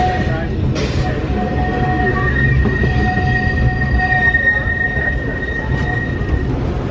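The Walt Disney World Railroad train at Magic Kingdom rumbles steadily along the track with faint squeals and whistling tones, loud and continuous throughout.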